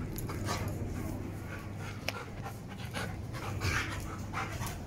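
Dog panting steadily with soft intermittent whimpers, close by, continuous and fairly quiet against a low background hum.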